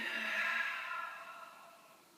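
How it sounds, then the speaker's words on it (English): During a yin yoga practice, a single soft, slow exhale drifts out close by and fades gently to quiet. "Breathing."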